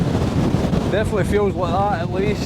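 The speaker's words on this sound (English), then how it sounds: "That wind is absolutely brutal." Heavy wind gusting to about 30 mph buffets the microphone with a constant low roar on the Fisherfield Munros in the Scottish Highlands, while a person talks over it.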